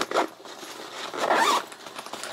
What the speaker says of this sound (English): the bottom zips around a complete 180